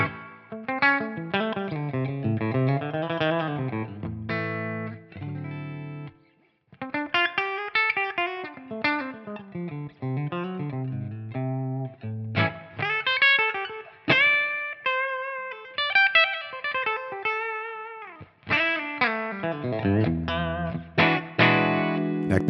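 Electric guitar, a Suhr Classic T with single-coil pickups, played through a Tonex amp model on a clean tone: melodic picked phrases and chords ring out with effects and slight echo, loud and alone with no talking.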